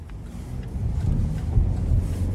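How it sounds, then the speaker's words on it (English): A 2025 Chevy Blazer 2LT with a 2-liter four-cylinder engine drives on the road, heard as a steady low rumble of engine and road noise that swells slightly. "let's go ahead and take this 2025 Chevy Blazer 2LT with cloth out on the road for a test drive"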